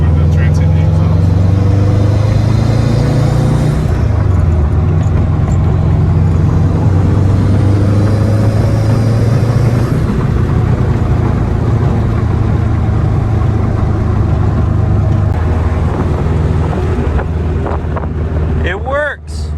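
Home-built car out on its first drive, engine droning steadily with heavy wind buffeting the microphone throughout, loud and close, while people talk over the noise.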